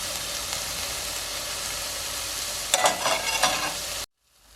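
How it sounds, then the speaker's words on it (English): Food browns in a frying pan with a soft, steady sizzle that rises briefly into louder crackles and stirring noises before cutting off abruptly. "I'm just going to brown these until they're golden on both sides and cook thoroughly"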